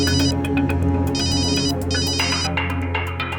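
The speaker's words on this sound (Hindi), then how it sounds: "कादिर का फोन था, कुछ इन्फॉर्मेशन देना चाहता है।" A phone ringtone trills steadily and loudly in repeated electronic bursts, filling the scene on its own with no talk over it.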